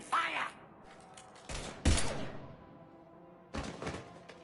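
Gunfire in the Mass Effect 3 video game, several separate bursts of shots spaced across a quiet moment, fairly faint and distant.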